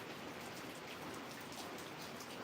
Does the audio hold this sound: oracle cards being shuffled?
no